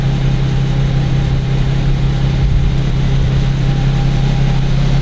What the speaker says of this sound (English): And we have more of the exhaust sound.